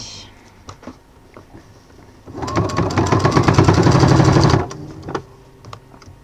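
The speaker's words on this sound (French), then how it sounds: "je repasse sur la machine à coudre. Et c'est parti pour coudre" A sewing machine runs in one steady burst of rapid mechanical stitching for about two seconds while bias binding is sewn on, loud and close, with quiet handling sounds before and after.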